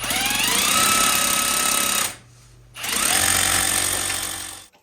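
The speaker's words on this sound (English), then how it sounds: "he's gonna drill that with the hammer drill now" A loud hammer drill pounds and whirs continuously through a wall, pauses briefly, then resumes its harsh rattling drilling nearby.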